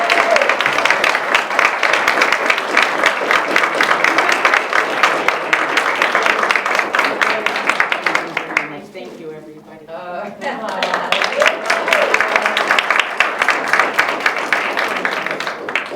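Loud, sustained applause from an awards ceremony crowd, steady clapping that dips briefly in the middle before swelling again.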